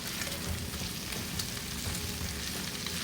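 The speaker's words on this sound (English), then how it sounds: "We're going to get this tossed around a little bit here. Grab my tongs." Mixed bell peppers and onion tossed with tongs in a pan, a steady close crackling sizzle with faint scraping movements, no voices.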